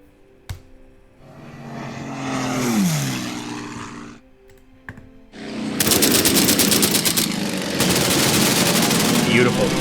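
WWII aircraft combat in a Pearl Harbor video game: an engine roar swells and dips, then long loud bursts of rapid machine-gun fire rattle continuously through the second half.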